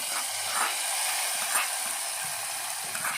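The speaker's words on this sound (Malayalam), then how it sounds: "ഇങ്ങനെ കടുക് വറുത്തത് എരിശ്ശേരിയിൽ ഒഴിക്കുക." Hot fried mustard seeds poured into pumpkin and bean erissery curry crackle and sizzle in a steady, hissing spatter with faint pops, fairly close and with no voices.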